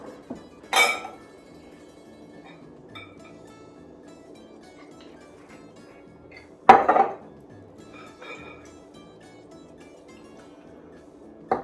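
Beet greens being tossed with balsamic vinegar and olive oil in a bowl, heard as a few scattered utensil clinks and clanks against the dish with quiet pauses between them, with no talking.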